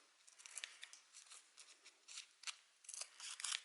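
Scissors snip through a strip of paper holding saved tomato seeds, a series of short, crisp cuts heard close and quiet with no one talking.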